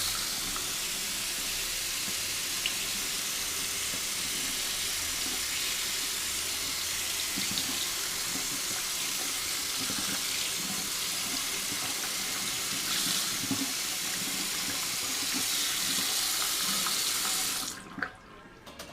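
A circuit board from a DDR arcade cabinet is rinsed under plain running tap water, a steady, loud, continuous splashing wash that holds for most of the time before cutting off abruptly near the end.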